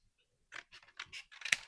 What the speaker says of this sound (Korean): 이 가위 정말 좋습니다, 여러분